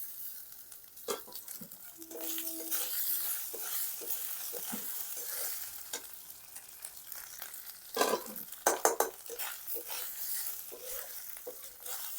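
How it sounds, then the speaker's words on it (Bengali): Grated coconut frying with peanuts and green chilli in a pan gives a soft, close sizzle, broken by clusters of sharp scraping clicks as a spatula stirs, loudest near the end. "নারকোলটাও ভাজা হয়ে গেছে"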